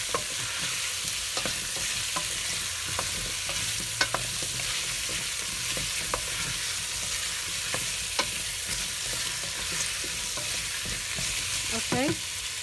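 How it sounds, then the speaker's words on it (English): Potatoes frying in oil for a kafta stew, a steady close sizzle and crackle with irregular scraping and tapping from stirring throughout, no voices. "So fry them for 2-3 minutes until they become golden brown from outside"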